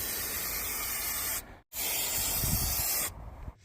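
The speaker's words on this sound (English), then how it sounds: "High temperature spray glue." High-temperature spray glue hisses from an aerosol can inside a VW camper van cab during a conversion, two long steady sprays broken by a brief pause, loud and close.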